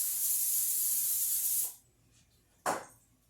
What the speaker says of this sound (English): I'm going to use the non-stick cooking spray today.